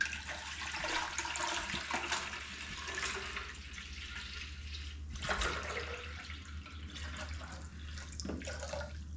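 Water pours steadily into a ginger mead brew, making a continuous splashing rush with a few brief louder spurts.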